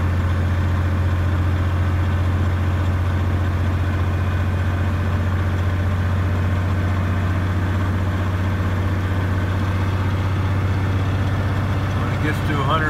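A big truck engine idles with a steady low rumble while its air compressor fills the frozen air brake tanks, and someone talks over the drone throughout.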